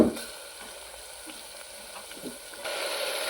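Tomatoes sizzle and fry in hot oil with browned onions in a pan for palav, a steady close crackle with a light stir partway and a louder hiss near the end, no voices.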